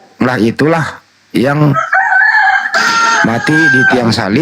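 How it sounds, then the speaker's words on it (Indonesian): A rooster crows, a long strained call sustained under and between a man's speech, close and fairly loud. "Apalagi kalau ada ayam berbunyi"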